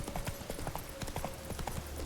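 Horse hooves clip-clopping in The Witcher 3, a rapid, steady run of hoofbeats at close range with faint game ambience underneath.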